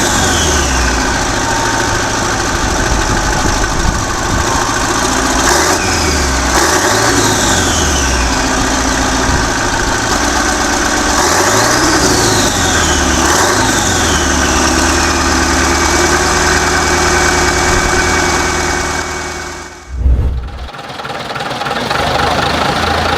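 A 1931 L. Gardner and Sons 6LW high-compression heavy-industry diesel runs loud and close with a clattering, knocking idle. Its revs swell and fall several times before the engine cuts off abruptly near the end.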